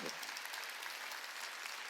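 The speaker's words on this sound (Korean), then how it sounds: "깨달은 사람만 박수치라고." A church congregation claps during a Korean sermon, giving a steady, dense patter of hands that sounds soft and somewhat distant, without pauses, throughout.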